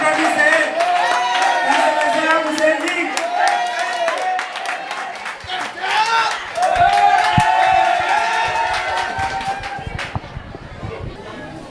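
An audience at a school ceremony at a lycée in Niodior claps and cheers in a sustained wash of crowd noise, mixed with chatter and whoops, fairly loud and continuous before fading near the end.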